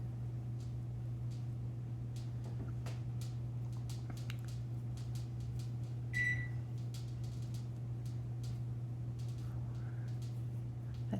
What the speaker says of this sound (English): That's my microwave.